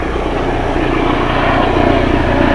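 A helicopter starting up at a benchrest shooting event makes a loud, continuous engine and rotor roar that holds steady and close for the whole moment.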